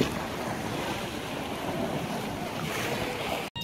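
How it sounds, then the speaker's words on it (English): Ocean waves washing against a breakwater at a seaside park, a continuous broadband rush of surf mixed with gusty wind buffeting the microphone, with no voices. "this breakwater is to stop these waves from going all the way into the boat dock"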